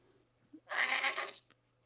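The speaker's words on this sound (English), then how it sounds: "That sounded more like a goat." A single drawn-out goat bleat rings out clearly for under a second against a quiet background with a low steady hum.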